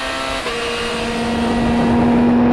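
Supercar Challenge race cars at the Assen circuit, heard on board as an engine holds a loud, steady high whine that climbs slightly in pitch while accelerating out of a slow corner.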